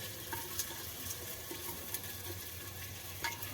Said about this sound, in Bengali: পেঁয়াজটা একটু ভাজা করে নিই।